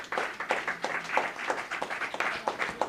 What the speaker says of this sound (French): on applaudit Sœur Marie-Laure